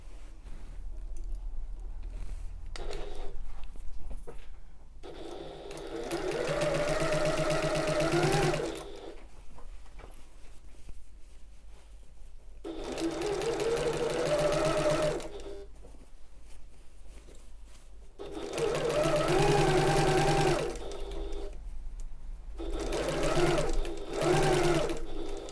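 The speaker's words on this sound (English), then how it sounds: "So I'm going to go along and sew inside the seam allowance." A sewing machine sews a tote bag seam just inside the seam allowance in four separate bursts of rapid, close mechanical whirring, with quiet pauses between runs as the fabric is shifted.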